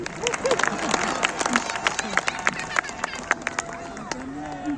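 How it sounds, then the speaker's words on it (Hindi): An audience at a festival poetry gathering claps after a bhajan ends, with sharp scattered claps among crowd murmur and voices chattering throughout. "भजन समाप्त, तालियां बजाइए।"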